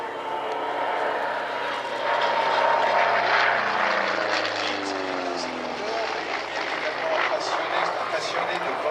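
A Republic P-47 Thunderbolt, a large single-engine propeller fighter, flies a display at the La Ferté-Alais air show. Its loud piston-engine drone swells and fades as it passes, while a commentator talks over it.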